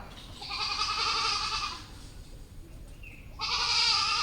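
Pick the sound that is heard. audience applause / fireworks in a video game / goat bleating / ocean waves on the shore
goat bleating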